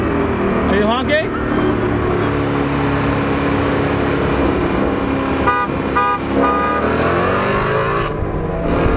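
A car horn honks in short tooting bursts, once near the start and again around the middle, loud over a running car engine and people talking.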